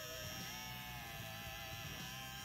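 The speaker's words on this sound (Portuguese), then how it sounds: "Esse é o barulho do motorzinho dele funcionando" A Philips OneBlade electric shaver runs with its blade removed, giving a steady, low-level motor hum and faint buzz that stays constant and close for the whole stretch.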